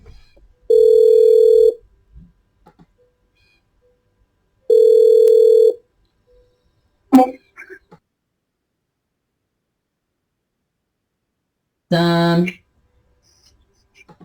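Two steady electronic telephone ringback tones on a T46S desk phone, each about a second long with a pause between, followed by a brief clatter and a short buzzy tone.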